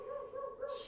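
Pet dog indoors barking at a neighbor's dog, a single sustained whiny bark-howl, close and moderately loud, ending with a brief hiss.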